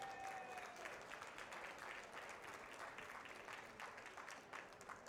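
Applause from diners at a labour union awards dinner, a soft, distant but steady clapping that fades slightly toward the end.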